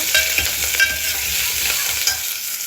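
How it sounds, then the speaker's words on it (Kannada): Onions and curry leaves stirred in a pan while cooking sambar, with scraping spoon strokes over a soft frying sizzle, close and fairly loud, no voices. "ದೆನ್ ಆನಿಯನ್ ಹಾಕೋತಾ ಇದ್ದೀನಿ. ಸೊ ಇದನ್ನೆಲ್ಲ ಚೆನ್ನಾಗಿ ಮಿಕ್ಸ್ ಮಾಡ್ಕೊಳ್ಳೋಣ"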